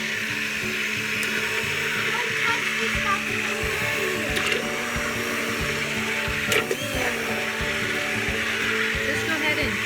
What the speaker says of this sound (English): Just go ahead and keep the immersion blender on the bottom of the pan.